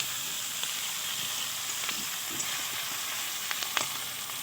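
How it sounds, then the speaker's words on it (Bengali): Chopped onion and black cumin seeds frying in oil for a fish curry, a continuous faint hiss of sizzling with scattered light crackles and occasional utensil taps, no voices present. "দেখো ফোড়নে দিচ্ছি কালো জিরে, পেঁয়াজ কুচনো দিয়ে এটাকে ভালো করে ভেজে নিতে হবে"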